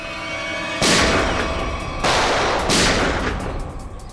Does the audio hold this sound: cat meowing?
no